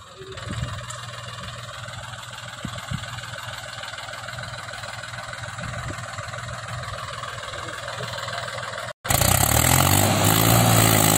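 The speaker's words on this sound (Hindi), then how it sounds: "वैसे काफी आगे आ गया ट्रैक्टर, धीरे धीरे बहुत धीरे धीरे सड़क रहा ट्रैक्टर।" A Mahindra 265 DI tractor engine labors loudly and steadily under a heavily loaded trolley for several seconds, dropping out briefly before surging back even louder and rougher, close by.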